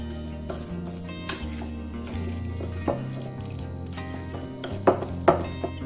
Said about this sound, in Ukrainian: додаємо білок і все перемішуємо.